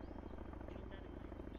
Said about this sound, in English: The chopper just took off.